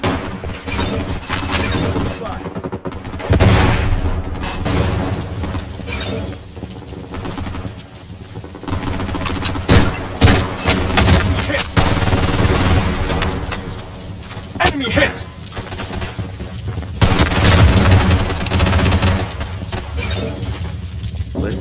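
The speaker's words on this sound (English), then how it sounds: "I'm under heavy fire." Gunfire in the video game Blood Strike crackles in dense, repeated bursts over about twenty seconds, loud and close, with short lulls between volleys and voices speaking underneath.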